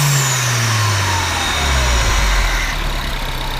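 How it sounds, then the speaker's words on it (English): Turbocharged engine of a 2007 Mini Cooper S revving up near the car, rising quickly in pitch to a loud strained roar and then falling back as the revs drop, with no talking. "Go ahead and rev it up a little bit."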